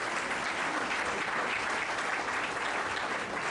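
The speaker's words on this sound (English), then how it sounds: "All right, round of applause." Steady, dense audience applause fills a hall at a public-policy speaking event, uniform hand clapping at full level throughout with no voices over it.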